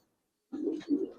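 Two close, soft cooing calls from a pair of old-breed Giribaz pigeons, silver military jabra-feathered birds, rising after a brief silence and sounding low and throaty.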